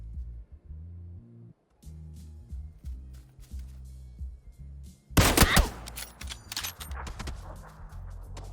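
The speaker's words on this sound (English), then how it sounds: "this cheeky fella up the hill shooting at me with a VSS" VSS rifle fire in PUBG, with a rapid burst of sharp cracks partway through after scattered lighter clicks and footstep-like taps, the shots loud and close over a low droning game background.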